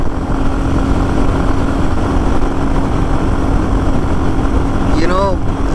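Steady Royal Enfield Bullet 350 engine hum at highway speed blended with rushing wind noise, continuous and loud throughout, with a brief squeaky chirp near the end.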